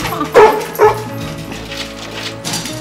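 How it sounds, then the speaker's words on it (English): A mischievous dog lets out two loud, close barks followed by whining yips and softer whimpering over a dense background of music. "The dog's noise had left the child without rest for 2 weeks, and Marley was rampaging through the house."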